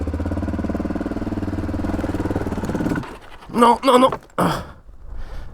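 A Suzuki DRZ400 E dirt bike engine idles steadily on an off-road ride near Cuenca, then abruptly stalls and goes quiet, followed by a man's brief exclamations close by.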